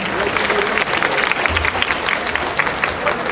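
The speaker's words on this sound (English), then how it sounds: "Rita, let's give her a round of applause" Loud round of applause from a festival crowd honoring Rita at a Korean cultural festival in Jerusalem, dense clapping throughout with a low hum underneath and a bit of crowd noise.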